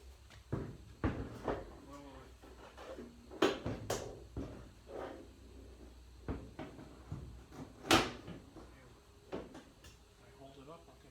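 Metal door handling on a 1966 El Camino under restoration: a series of knocks, clunks and rattles of the door being fitted and latched, with a couple of louder sharp clanks, close by and interspersed with someone talking.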